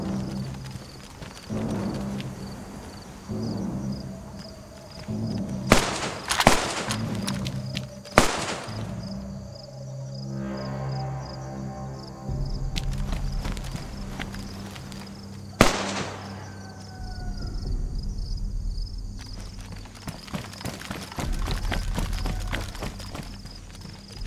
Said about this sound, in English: I don't know if they're shooting at me or the other guy.